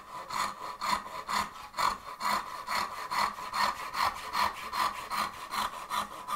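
Hand saw cutting wood for houndstooth dovetails, a steady back-and-forth rasp of rhythmic strokes, close and clear with no talking.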